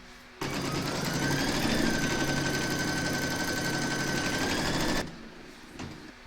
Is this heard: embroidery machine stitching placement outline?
yes